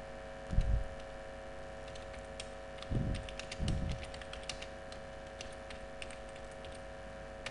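Someone types data on a computer keyboard while formatting a document in MS Word 2007. A few short, quiet bursts of key clicks are separated by pauses, with no speech.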